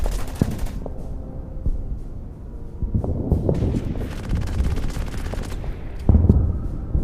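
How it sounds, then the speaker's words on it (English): Gunfire and artillery from bunkers in a World War II Pacific strategy war game set on Guam with US Marines, as dense rattling machine-gun bursts and booming blasts roll on steadily for several seconds, with a heavier thump near the end. "And the bunkers are firing back."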